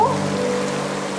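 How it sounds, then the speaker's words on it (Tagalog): Steady rain falls throughout, a dense even hiss and patter on a surface, close and continuous with no other sound. "Umuulan na, anak, oh."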